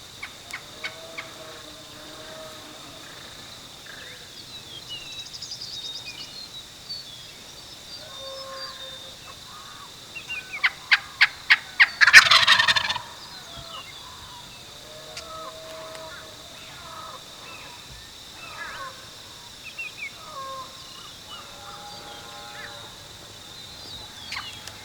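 A wild turkey gobbles in one loud burst near the middle, a rapid rattling series of notes. Quieter bird calls scatter around it, with soft sounds of hunters moving in the background.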